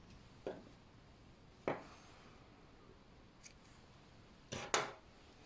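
Scissors snip crochet yarn at the end of a row, a few short crisp cuts spaced apart, close and quiet with no talking.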